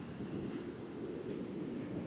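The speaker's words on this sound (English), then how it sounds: "So there's your ocean noise, wind noise." Onshore wind buffets a microphone on a beach while ocean surf and spray roar underneath, a steady, dense, close rumble with no voices.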